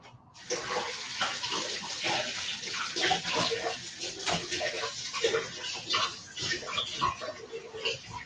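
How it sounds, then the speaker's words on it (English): Celery stalks being rinsed under a running kitchen tap, a steady close splashing stream with fluttering variations as the stalks move through the water, starting half a second in and continuing throughout. "rinsing the celery before I chop it"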